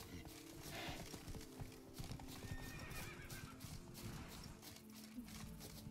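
A wild horse in The Witcher 3: Wild Hunt, Blood and Wine, galloping with steady rapid hoofbeats and letting out a neigh, heard faintly and close, with no talk over it.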